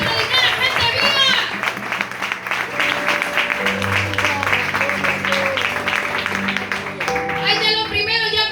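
Church congregation applauding during a sermon, a steady wash of clapping throughout, mixed with voices, cheers and music tones underneath.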